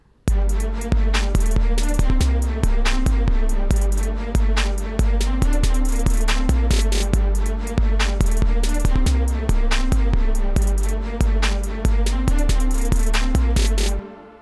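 A trap hip hop beat drives along with booming 808 bass, sharp regular drum hits and a sustained melody and pad layered over the top, steady and loud throughout.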